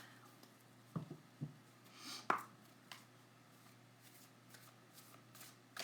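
Tarot cards being shuffled by hand in a quiet room, a few soft riffles and taps spread over several seconds.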